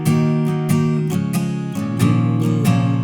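An acoustic guitar strums the chord progression of a pop song with full, ringing chords and a few sharp strokes. The chords change partway through, and it plays alone without any voice.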